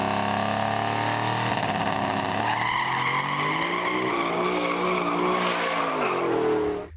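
A race truck, an S10 drag truck, does a short burnout with loud, continuous tire squeal and a roaring engine. The pitch climbs steadily over several seconds before cutting off abruptly at the end, with no voices.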